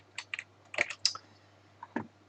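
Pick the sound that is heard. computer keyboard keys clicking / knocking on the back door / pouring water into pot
computer keyboard keys clicking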